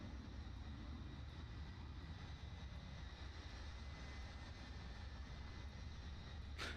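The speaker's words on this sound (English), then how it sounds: "I love the sound of that F-35." An F-35 fighter jet engine in Microsoft Flight Simulator, a steady low roaring drone held at constant level with no breaks, fairly quiet throughout.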